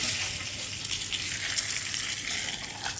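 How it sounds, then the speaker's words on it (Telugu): Two eggs fry in a little oil in a pan, with a continuous crackling sizzle, close and steady with small pops, and no talking. "అందులోకి రెండు గుడ్లు వేయిస్తున్నాను"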